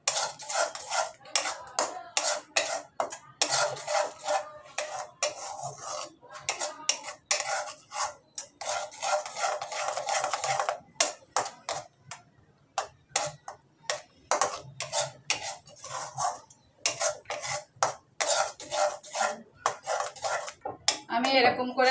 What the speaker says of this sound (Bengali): দিচ্ছি অল্প পরিমাণ লবণ দিয়ে আমি এবার এটা আবার মিশিয়ে নিচ্ছি